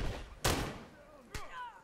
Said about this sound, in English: I just domed that guy with a shotgun